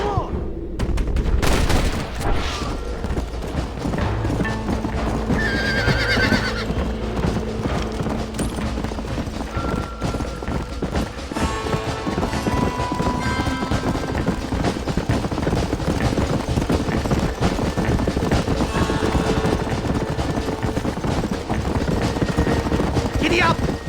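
Galloping horse hooves in the Western video game Red Dead Redemption, rhythmic clip-clop under a busy mix of gunfire, shouting voices and music during a chase.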